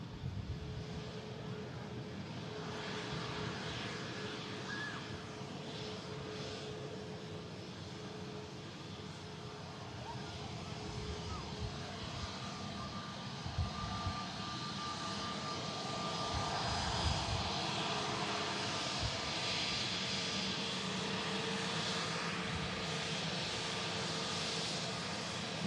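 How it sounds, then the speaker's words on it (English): Airbus A320neo jet in Scandinavian livery at Manchester Airport: a steady, loud engine roar and whine that holds for nearly half a minute and swells slightly louder toward the end, with no voices over it. "A320neo."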